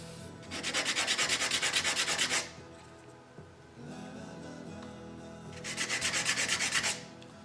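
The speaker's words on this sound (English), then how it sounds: "I'll keep looking at my pencil line and I'll keep sanding." A sanding block is rubbed back and forth against wood on a model house truss in two close, rhythmic bursts of quick strokes, separated by a quieter pause.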